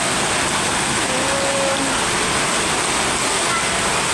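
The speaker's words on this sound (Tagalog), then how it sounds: "Sobrang lakas ng ulan." Heavy rain pours steadily on a rainy school day with flooded, muddy roads, a dense continuous roar close by that fills the whole clip without letup.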